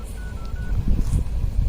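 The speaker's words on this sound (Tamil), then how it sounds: "டாடா பிர்லா சாருக்கு ஃபோன் பண்ணுங்க நம்பரை நான் போட்டு தரேன்" A telephone number being dialed, three short keypad tones in quick succession followed by low rumbling handling noise, close and fairly quiet.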